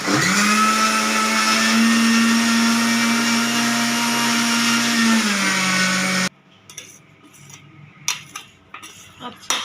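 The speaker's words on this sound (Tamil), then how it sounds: "அரிசி ஊற வச்சு இப்போ அரைக்க போகிறேன் புட்டு செய்யறதுக்கு" Soaked rice being ground for rice flour puttu in a mixer grinder, a loud steady whirring motor run that drops in pitch and cuts off, followed by scattered rattling and clinks of the jar.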